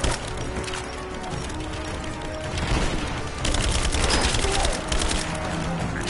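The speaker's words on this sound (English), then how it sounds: "Where is this fellow throwing grenades?" Enemy grenades in Rise of the Tomb Raider burst in a dense, noisy barrage of crackling explosions and debris, growing louder midway, with brief voices underneath the chaotic blasts.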